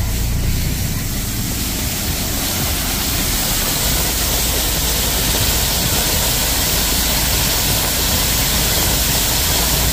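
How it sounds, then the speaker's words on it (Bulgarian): Water from a fire hydrant gushes out under pressure in a loud, steady, unbroken rush of broadband noise that lasts throughout, with no voices. "с какво налягане излиза водата от крана. Това са пожарникарски кранове."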